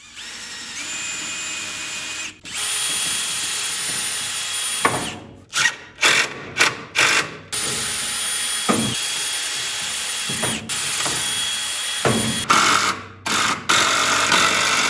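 A power drill drives screws into fittings in a new workshop: a loud, sustained whirring run, then a quick series of short trigger bursts, then longer runs again, close up with no talking.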